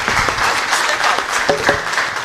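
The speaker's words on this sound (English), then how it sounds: "Please give another round of applause to the panelists" An audience at an international scientific conference applauds the panelists, a brief round of close, dense clapping from a modest crowd with some murmuring underneath.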